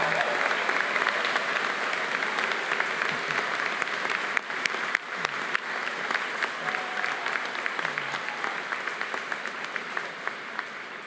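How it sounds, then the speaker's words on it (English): Sustained, dense applause from a large audience at the Gustavus Adolphus College commencement ceremony for the Class of 2026. Steady, even clapping holds the whole time, with a few sharper claps poking through. "Let's give them one more round of applause"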